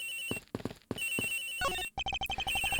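A cell phone ringing inside a locker in the video game Ace Attorney Investigations, with a short chirpy electronic ringtone followed by rapid beeping notes, brief and fairly faint, with no talk.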